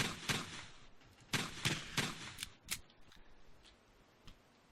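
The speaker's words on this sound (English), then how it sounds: "let's shoot them so they explode" Explosive barrels shot in the Company Commander video game, a run of sharp, loud bangs at uneven intervals, some close together, fading into fainter scattered pops.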